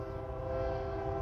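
A distant train horn in the Texas outdoors holds a steady, faint, droning chord, unbroken and alone with no voices.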